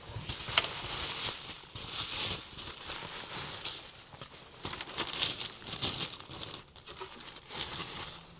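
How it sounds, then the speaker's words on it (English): Kia EV9 FITCAMX integrated dashcam being unpacked, with steady crinkling and rustling of packaging and plastic wrap in bursts throughout, close and fairly loud, without talk. "Let's unbox it"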